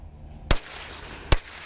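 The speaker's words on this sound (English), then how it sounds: "And now here go two firecrackers at a time." Two sharp bangs from small firecrackers pop a little under a second apart, loud and close against a steady outdoor hiss.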